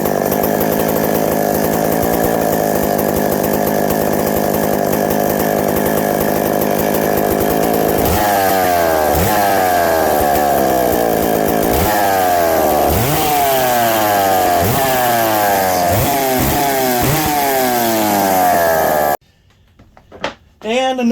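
A McCulloch 91 chainsaw engine on a firewood kart saw roars loud and close, idling steadily and then revving up and down repeatedly before cutting off, with voices heard over it.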